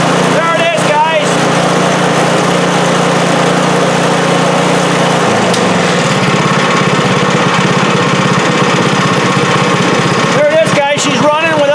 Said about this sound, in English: She's got it on half choking and it's running